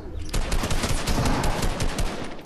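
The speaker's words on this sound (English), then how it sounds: "I hear shooting." Rapid bursts of gunfire crackle continuously at close range, a dense, loud fusillade of overlapping shots with no pause.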